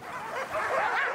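Harnessed sled dogs waiting to depart for trout fishing let out a brief burst of excited yips and whines, eager and close, layered over one another.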